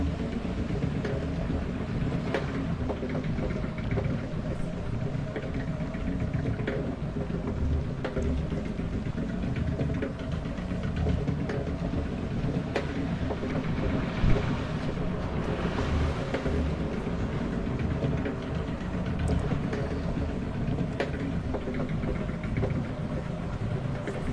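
A log flume ride at an amusement park, heard as a steady wash of rushing water and machinery rumble with wind buffeting the microphone, continuous and moderately loud throughout.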